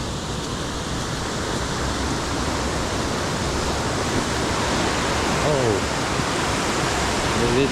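Loud, steady rushing water pours over a dam by a lake, a dense unbroken roar heard up close with no other sounds.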